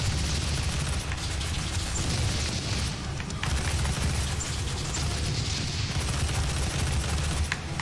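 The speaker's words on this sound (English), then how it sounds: "Let's get this machine gun out if it does good damage." A machine gun firing in the Doom 2016 shooter on Xbox One, sustained rattling gunfire mixed with heavy booms and explosions across several seconds of loud, continuous combat noise.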